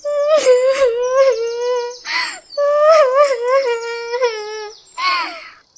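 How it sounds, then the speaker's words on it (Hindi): A cartoon bird bursts into loud, wailing sobs, with long quavering cries broken by short gasping pauses, close and alone without background sound. "इतना कहकर टुनटुनी चिड़िया फूट फूट कर रोने लगती है।"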